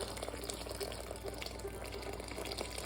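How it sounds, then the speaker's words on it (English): Water runs from a tap into a cooking pan of French onion soup that has just been deglazed, a steady close splashing gush filling it without pause. "I'm going to fill the rest of it up with water"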